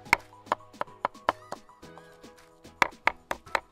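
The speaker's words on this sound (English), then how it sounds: "Just keep folding and chopping away" A knife chops ingredients, including chili pepper, rhythmically on a cutting board outdoors, sharp close knocks coming in an uneven series with a short pause midway.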